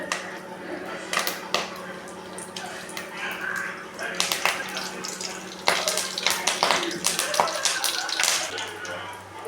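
Mustard seeds and curry leaves crackle and pop in hot oil in a pan for a siru kizhangu kootu, a busy spattering hiss with sharp bursts, under a person talking.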